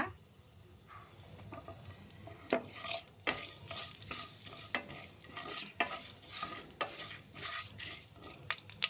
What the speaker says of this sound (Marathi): ही अशी आपली फोडणी चांगली तडतडली ना